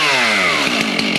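A Stihl chainsaw engine, just pull-started, runs loud and close, its buzzing pitch sliding lower as it settles toward idle, with no talking.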